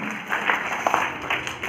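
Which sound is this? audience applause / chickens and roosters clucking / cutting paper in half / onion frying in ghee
audience applause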